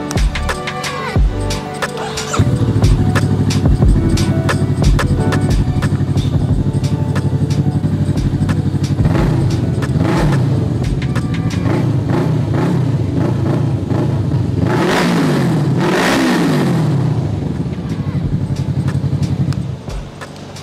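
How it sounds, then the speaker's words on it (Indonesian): A Honda Rebel 500 motorcycle engine cranks and catches, then idles with a steady, close, loud rumble and several rising revs near the end before it settles. "kita langsung nyalain motornya"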